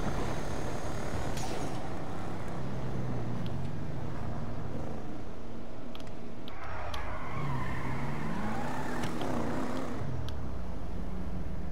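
Albany Virgo car in GTA V Online driving along with a steady engine drone, rising and falling revs and a few brief tyre screeches, loud and continuous throughout.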